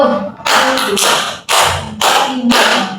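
A group claps in unison during a counting clap game in a group counseling session, giving several sharp, loud bursts in an uneven rhythm.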